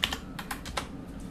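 Quick, uneven clicks of someone typing on a computer keyboard with one hand, about half a dozen close keystrokes in a short burst.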